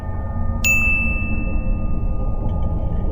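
A phone notification gives a single bright ding that rings out and slowly fades over a steady low room hum, with no one speaking.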